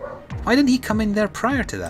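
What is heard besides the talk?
dog barking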